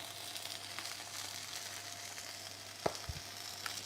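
Onions browning and charring in a pan give off a steady soft sizzle, with a few brief clicks and knocks from stirring near the end, quiet and without talk.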